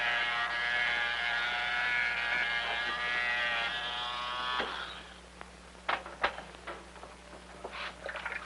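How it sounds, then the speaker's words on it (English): An electric razor buzzes steadily for several seconds during shaving, then stops, followed by scattered light clicks and taps in a quiet room. "My father's shaving."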